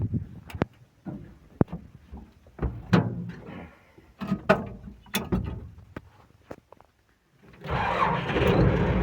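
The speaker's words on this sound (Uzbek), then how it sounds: "Traktor ishga tayyor. Bir kaltam yonadi." A 2013 MTZ-82.1 tractor diesel is cranked to start, with sharp mechanical clicks and clunks, uneven bursts of cranking, then a brief pause before the engine catches into a steady rumbling roar.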